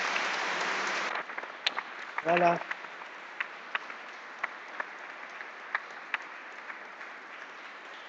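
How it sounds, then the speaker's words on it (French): A church congregation applauds a newly formed choir during a Lenten Sunday Mass at St Martin d'Esquermes; dense clapping fills the first second, then scattered claps and a brief spoken word follow. "On peut les applaudir."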